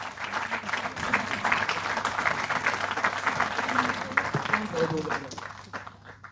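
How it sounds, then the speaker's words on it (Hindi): An audience claps at an award ceremony during a shawl presentation, with dense, sustained applause heard under a hum and some talk, fading out near the end. "आप जोरदार तालियां बजाएं।"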